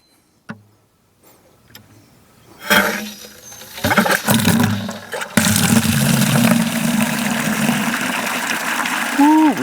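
Water bursts from a newly installed yard hydrant after a few clunks and knocks, then gushes in a steady loud rushing stream, with a person's voice briefly heard.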